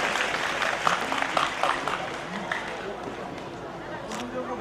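Applause from students and guests at a degree college annual function, a fairly distant, steady patter of clapping mixed with crowd chatter and room noise.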